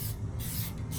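An aerosol spray paint can hisses outdoors in a steady, close burst with a faint low hum behind it.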